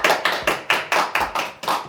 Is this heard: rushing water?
no